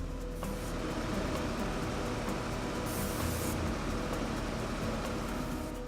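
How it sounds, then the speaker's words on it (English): Continuous hissing spray from a spray gun applying coating at an industrial site, broad and steady, over a low mechanical hum, with a brief brighter burst midway. "Use a spray guard to keep the spray separate from different types of surface structure areas."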